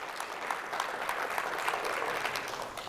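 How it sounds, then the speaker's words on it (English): Crowd applause for a school team at a national drone race, dense continuous clapping with a few sharper claps standing out, steady throughout. "Round of applause for them."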